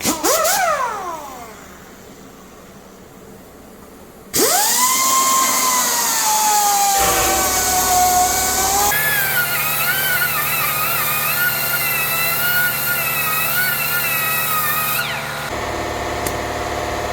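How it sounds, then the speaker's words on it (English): An air compressor in a garage kicks on during a Vortec valve cover gasket job, its motor spinning up into a loud, steady droning hum that continues close by to the end. "Air compressor kicked on."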